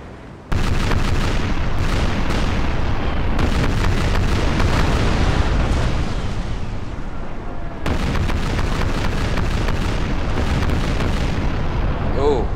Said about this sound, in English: Oh, big broadsides.